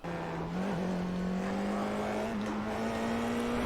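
A Formula 4 race car in iRacing at Suzuka holds a steady, loud engine drone at near-constant revs, dipping briefly once early, heard alone with no talk.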